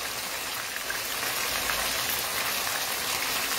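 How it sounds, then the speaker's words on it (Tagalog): Hot cooking oil spatters and sizzles steadily while banana turon fries in a pan, a dense, continuous crackling hiss heard close up with no talking. "Ito naman tilamsik ng mantika"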